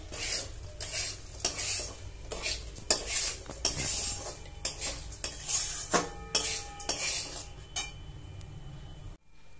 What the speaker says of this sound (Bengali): এবার ভালো করে নাড়াচাড়া করবো।